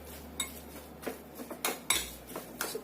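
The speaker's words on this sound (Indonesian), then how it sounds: "Aduk sampai rata" Chicken with soy sauce and sesame oil being mixed in a bowl, with several light clinks and scrapes of a spoon against the dish, close and sparse.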